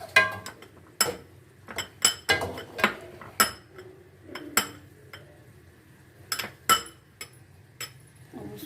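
A spoon knocks and scrapes against a pot while food colouring is mixed into rice for mutanjan, in sharp irregular clinks and clatters with short pauses, close by and with no talk.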